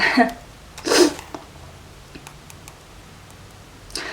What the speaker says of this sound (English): Sorry about that. I had to sneeze.